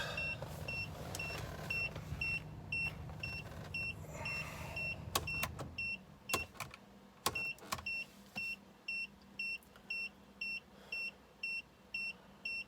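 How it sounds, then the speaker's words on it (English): A Fuel-it Stage 2 fuel pump in a BMW 335xi coupe primes with a low electric hum for several seconds, then cuts out, leaving a steady regular beeping chime from the car repeating alone in a quiet interior. "Should be priming the pump"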